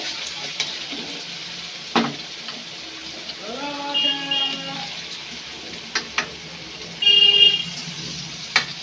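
Raw chicken is dropped into spice paste frying in oil in a pan, giving a steady crackling sizzle with a few louder bursts of stirring and clatter, heard fairly close.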